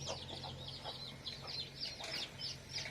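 Hens and small chicks clucking and peeping at a home poultry yard, a run of soft repeated clucks and high cheeps at moderate distance, fairly quiet with no talk.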